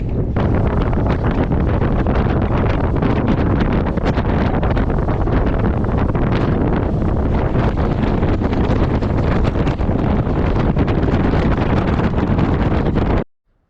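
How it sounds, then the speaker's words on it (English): Strong, steady wind roars and buffets the microphone nonstop while crappie fishing from a boat during a tournament, loud and broadband with no talk, cutting off abruptly at the end. "But I'm trying to block the wind here."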